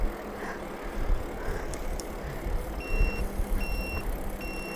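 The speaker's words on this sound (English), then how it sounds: "Oh, there's your turn signal." Turn signal on a Velotric Breeze 1 e-bike beeping in a steady, evenly spaced rhythm of high electronic tones, clear over outdoor background noise with no speech.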